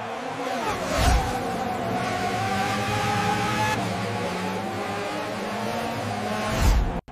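Formula 1 race cars in a synthetic broadcast-style aerial shot, a sustained loud engine roar with rising revving pitch and a brief whoosh near the end, no voices.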